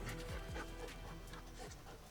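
A retriever pants rapidly at close range during field training, quick rhythmic breaths against a steady outdoor background, with no voices.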